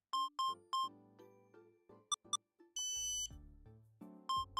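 Electronic beeps from the Tabletop Game Shop Simulator video game, a series of short, clean tonal blips and chimes in uneven bursts, with a longer buzzy tone in the middle, clear and without talking.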